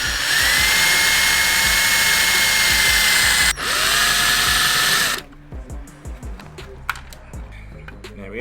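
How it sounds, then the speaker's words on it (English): A power drill whines loudly and steadily for about five seconds while drilling out a rivet on a Ducati Monster motorcycle fender, pausing briefly once, then stops, followed by a few faint clicks and taps. "Let's remove the rivet with a drill and a drill bit."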